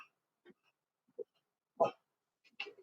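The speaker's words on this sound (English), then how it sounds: "coughing up a hairball in the background" A few short, wet hacking and retching sounds in quick irregular bursts, close by in an otherwise quiet room, like a cat bringing up a hairball.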